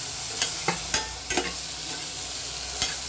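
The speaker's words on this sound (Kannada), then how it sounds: "ಈಗ ನಾವು ರೋಸ್ಟ್ ಅನ್ಸಿದಾದ್ಮೇಲೆ ಸ್ವಲ್ಪ ಟೊಮೆಟೊ ಹಾಕಬೇಕು." Tomato roasting in a pan for saagu, a loud continuous sizzle and fry broken by several sharp clacks and scrapes of stirring at irregular intervals.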